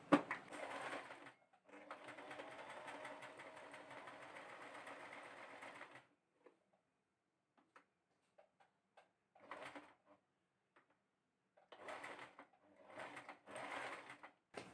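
A sewing machine fitted with an appliqué presser foot stitches an appliqué in two steady runs of a few seconds each, separated by a pause, followed by several shorter bursts of stitching near and clear with no talk.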